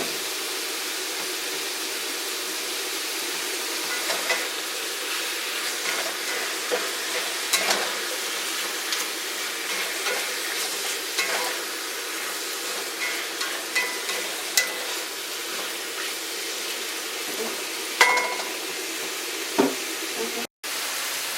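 Pork chops and brown mushrooms frying on medium heat in a cast iron skillet, giving a steady close sizzle with occasional light knocks and stirring clicks, no voices.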